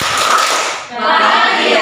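A seated group of teachers at a school workshop claps in unison in a short rhythmic burst, loud and close, with a brief pause before the clapping resumes.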